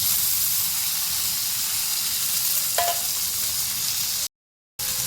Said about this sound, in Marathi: तूप गरम झालेले आपल्याला गूळ टाकायचं आहे सारण बनवायचं आहे आपल्याला गुळामध्ये आपल्याला शिजलेला आवळा टाकून घ्यायचा आहे